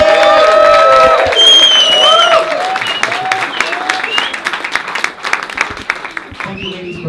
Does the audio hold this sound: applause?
yes